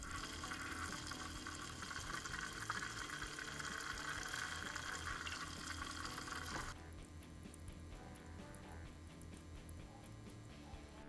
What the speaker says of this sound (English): switch it on, and you should hear a lot of air bubbles